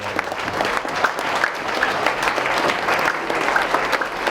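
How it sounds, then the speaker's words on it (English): An audience at a fall sports banquet applauds football players with steady, dense clapping that holds at an even level for several seconds, fairly close and loud. "give a round of applause for these guys"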